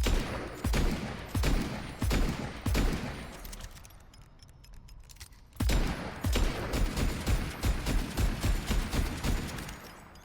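Bursts of rapid rifle fire from Overwatch 2 with sharp, punchy reports, a brief pause in the middle, then another sustained volley.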